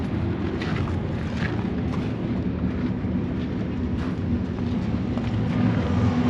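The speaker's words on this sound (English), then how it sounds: "Train going by." A steady, heavy rumbling roar of a train rolling past, continuous and unchanging for the whole stretch, with no voices.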